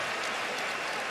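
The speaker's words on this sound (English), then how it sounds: "He gets a nice round of applause from the Kentucky fans" A Kentucky basketball crowd in an arena applauds a former state Mr. Basketball, a dense, steady round of clapping filling the short moment without a break.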